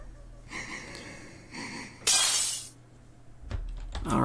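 A glass bottle full of eyeballs smashes in the video game Mad Father 2. A sudden bright shatter lands midway, set among quieter breathy rustles and a few soft knocks before and after.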